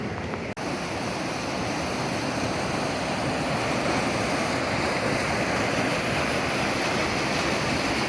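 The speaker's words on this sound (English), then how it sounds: "It's a lot of water." Continuous loud roar of rushing spring water at an 1894 mill in the Missouri Ozarks, steady and unbroken, heard up close.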